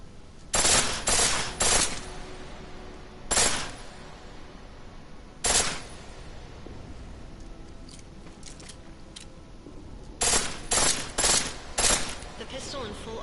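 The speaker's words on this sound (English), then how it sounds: "The pistol in full auto will take down targets fast, but it'll burn through your ammo" A pistol fired on full auto in Deus Ex: several quick bursts of sharp, close shots, a cluster early, two isolated shots midway, then another rapid run near the end, with quiet background between.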